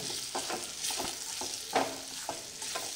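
Ridge gourd is stirred and sautéed in a spice mixture in a pan. There is soft, close sizzling with repeated scraping stir strokes at an uneven rhythm, and no voices.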